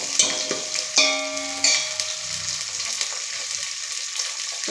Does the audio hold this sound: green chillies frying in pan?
yes